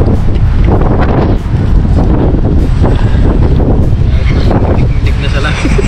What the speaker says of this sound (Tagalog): Kahit na malamig po dito, mahangin, nandito pa rin kami sa Alton